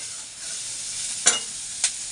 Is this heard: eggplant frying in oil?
yes